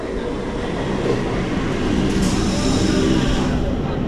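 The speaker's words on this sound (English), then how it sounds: "the train has come" A train arrives at Howrah station, rumbling steadily nearby with a broad, continuous roar and rising screech of wheels on rails.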